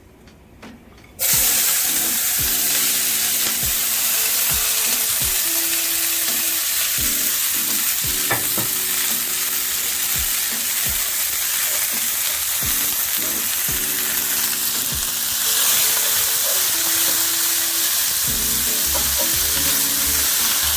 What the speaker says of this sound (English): I'm just gonna saute the veggies